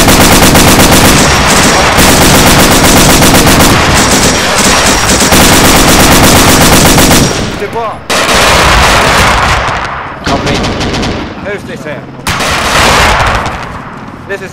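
Sustained heavy automatic gunfire in a video game firefight, loud and dense for several seconds, then breaking into bursts with short pauses, under shouted voices.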